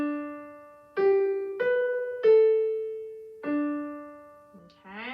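Right-hand piano line: several clear single notes struck one after another at an unhurried pace, each ringing and fading before the next.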